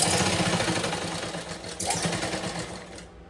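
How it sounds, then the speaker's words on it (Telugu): A sewing machine runs a second line of stitching over an existing seam on a garment, a fast continuous whirring rattle that stays close and steady before stopping abruptly at the end. "ఇదే విధంగా ఇంకొక స్టిచ్ వేయాలి కుట్టు మీద కుట్టే కనిపించాలి"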